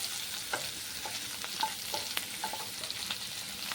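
Shrimp frying in hot oil in a kadai crackle and sizzle up close, broken by repeated light utensil taps and stirring clicks, with no talking over it.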